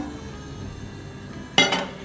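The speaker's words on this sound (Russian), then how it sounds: "Итак, берем сковородку" A quiet hum, then a short metallic clank and scrape as a pan is lifted, close by.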